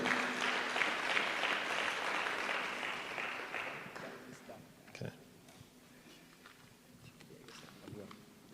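Audience applause at a leadership workshop, a dense broadband clapping wash that is loud at first and thins out after about four seconds into scattered claps, with faint talk underneath.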